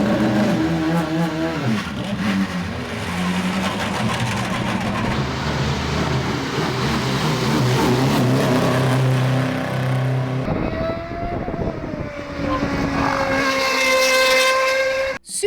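A high-pitched Honda HSV-010 racing engine revs hard and climbs through its range, then fades and rises again in loud, whining bursts.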